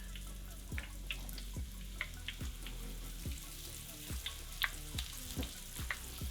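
Chicken karaage with ginger frying in hot oil, with a steady close sizzle and regular soft ticking pops from the pan.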